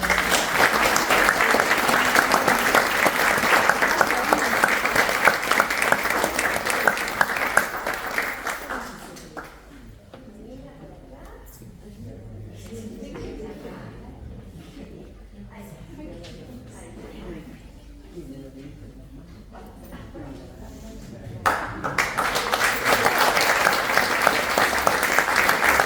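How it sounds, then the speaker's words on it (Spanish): An audience at a library's 120th anniversary celebration applauds young reader award winners, loud sustained clapping that stops for a stretch of talking from a presenter, then swells again toward the end. "un fuerte aplauso para"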